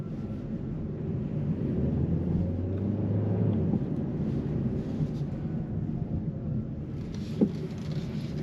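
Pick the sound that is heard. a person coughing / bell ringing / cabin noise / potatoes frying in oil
cabin noise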